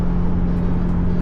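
A Jeep TJ cruises at high speed, around 90 to 100 km/h, with a steady, droning engine and road rumble and a constant low hum inside the cabin.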